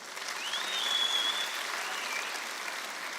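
Steady, full applause from a crowd at a stand-up comedy show fills the hall as a continuous dense wash of clapping, with a faint whistle briefly cutting through.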